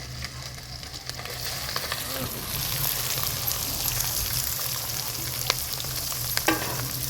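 Ginger, garlic, onions and green chillies fry in hot oil for a village-style drumstick curry, a loud, continuous sizzle up close with occasional stirring clicks and no talking.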